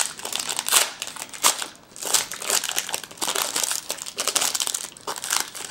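A crinkly foil baseball card pack wrapper is crumpled and torn open close by, giving continuous sharp crackling rustles in uneven bursts for several seconds.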